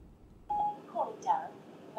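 An iPhone places a call through Siri: a brief dialing tone sounds, followed by a short synthesized voice.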